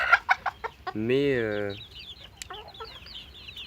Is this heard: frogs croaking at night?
no